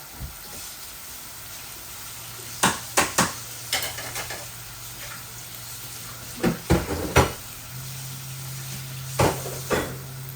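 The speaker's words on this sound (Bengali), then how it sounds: "এই যে আমার সিম আর চিংড়ি মাছ একসাথে দিলাইছি, ও একসাথে শুধু বুনমু" Beans and shrimp stir-fried together in a pan, giving a soft steady sizzle broken by several clustered bursts of spatula scraping and stirring, close and alone with no talk.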